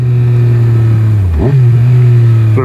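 A Yamaha Tracer motorcycle with an Akrapovic Racing Line exhaust idles loudly up close, then the throttle is blipped for a quick rev that drops back to a steady rumble.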